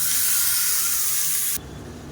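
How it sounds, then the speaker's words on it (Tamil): Mustard seeds, urad dal, curry leaves and asafoetida hiss loudly in hot oil for a tempering, a dense close sizzle that drops abruptly to a quieter simmer. "இப்போ கடுகு உளுந்து கருவேப்பிலை பெருங்காயம் போட்டு அதை சேர்த்துக்கலாம்"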